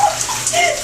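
Shower water pours in a steady, close rush, filling the brief moment with an even hiss of spray.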